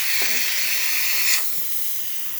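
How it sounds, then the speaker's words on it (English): Steady, close hiss from the steam wand of a Breville espresso machine, with a brief louder burst partway through before it settles to a softer, continuous rush. "Excellent temperature and pressure coming out of the steamer."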